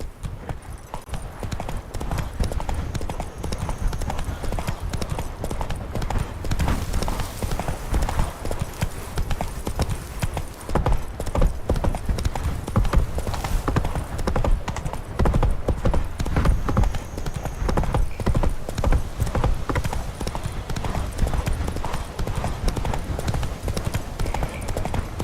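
Horse galloping in The Witcher 3: Blood and Wine, dense rapid hoofbeats pounding on continuously for the whole stretch, loud and close, with no speech over them.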